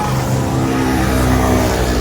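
Kawasaki ZX25R motorcycle fitted with a long aftermarket Shaduk exhaust, revving steadily and loudly up close, a continuous raspy engine note with no talk over it.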